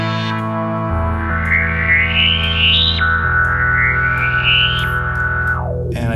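Arturia Analog Factory synth holds a thick, distorted sustained tone while the cutoff and resonance are swept upward twice, producing rising whistling filter peaks that snap back down, loud and alone with no talking.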